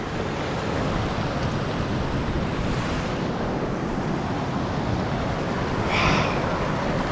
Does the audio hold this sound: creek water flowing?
yes